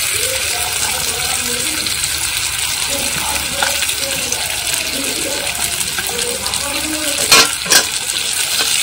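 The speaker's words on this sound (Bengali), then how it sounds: "এখন এর মধ্যে ভাজা মাছগুলো দিয়ে দেব।" Fried mourala fish is stirred into a masala with eggplant in a pan, making a loud, dense close sizzle with steady stirring and a couple of clattering utensil knocks near the end.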